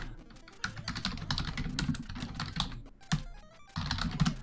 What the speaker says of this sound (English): we can hear y'all click-clacking on your keyboards all the time